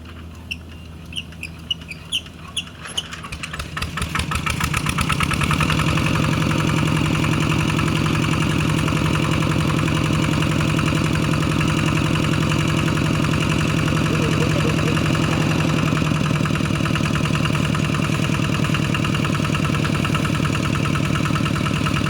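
A Kubota ET 95 diesel engine starts with a few cranking ticks, then settles into a steady, loud, close idle with an even rhythmic knock that runs on unchanged.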